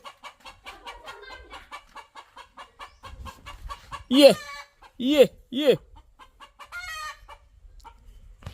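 A rooster clucks in quick repeated bursts, then gives a few loud squawks while being chased in a village; a person calls out briefly at the end.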